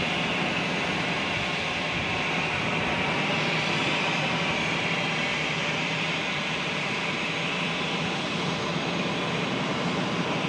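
An American Airlines jet arriving from New Orleans at Charlotte, a steady broadband engine roar that holds loud and even throughout with no talk over it.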